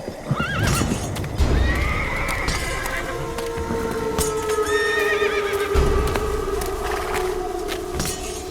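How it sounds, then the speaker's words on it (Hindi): Horses in an animated story galloping, with a rapid clatter of hoofbeats and several high whinnies, loud and busy, with no talk over them. "तभी अचानक घोड़ों की टापों और तलवारों की आवाज आई।"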